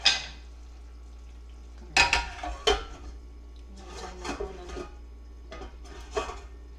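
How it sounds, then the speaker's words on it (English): Beans are stirred in a stew pot of chicken and fish curry with vegetables cooking on low heat. Scattered scraping and clattering of a utensil against the pot come in short bursts over a low steady hum. "You can see I am moving the beans."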